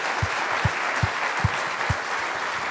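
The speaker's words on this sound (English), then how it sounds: "let's give Stefan and Juan a big round of applause" An audience applauds the speakers at a lightning talks session, producing a dense, steady wash of clapping with a few louder thumping claps close by at a regular pace, sustained throughout.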